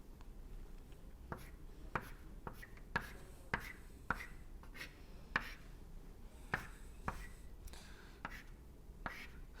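Chalk or a marker taps and strokes across a board during a lecture on thin film dynamics, making a string of short, crisp, irregular ticks and scratches close by in a quiet room, with no talk.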